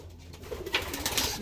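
A pigeon coos in a loft among other birds, giving a soft low call that rises into a couple of brighter, louder notes near the end, alone without talk.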